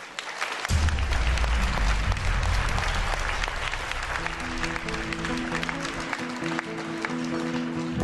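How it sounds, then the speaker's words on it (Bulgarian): An audience applauds Bulgarian mountaineer Boyan Petrov at a Sportsman of the Year 2016 ceremony, sustained loud clapping from a large crowd with music swelling underneath toward the end. "моля за вашите аплодисменти за големия българин Боян Петров"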